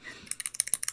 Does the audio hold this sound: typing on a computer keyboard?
yes